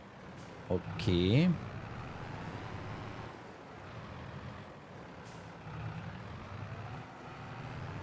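Truck backing up through deep snow in Landwirtschafts-Simulator 22, a steady engine drone with a sharp air-brake hiss and rising whine near the start, a voice speaking briefly over it.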